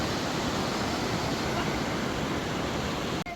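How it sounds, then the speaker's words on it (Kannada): The Yamuna river rushes at Yamunotri in the mountains, a loud, steady, broadband roar of flowing water that fills the whole stretch without pause. "ನೋಡಿ ಈಗ ನಮ್ಮ ಯಮುನಾ ನದಿ ಹೇಗೆ ಹರಿತಾ ಇದ್ದಾಳೆ ಅಂತ."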